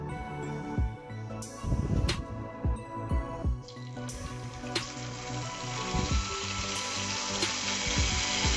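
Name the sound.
chicken in batter frying in oil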